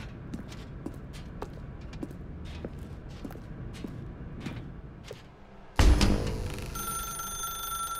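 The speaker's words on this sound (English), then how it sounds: "Now pick up the phone." A telephone in a dark warehouse room of The Stanley Parable: Ultra Deluxe starts ringing loudly and suddenly, its bright electronic trill following a stretch of soft, steady footsteps.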